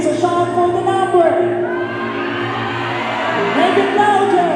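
A crowd at a pageant shouts and cheers for a candidate, loud continuous cheering and whoops over a music bed.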